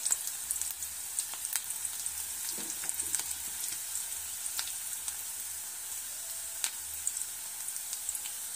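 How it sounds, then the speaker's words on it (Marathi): Onion fries in oil in a pan for an egg curry, a steady quiet sizzle with scattered crackles and pops throughout. "कांदा आता आपला भाजला आहे।"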